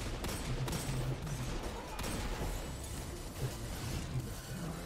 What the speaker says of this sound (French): Un sniper, c'est le mec là-bas qui m'arrose là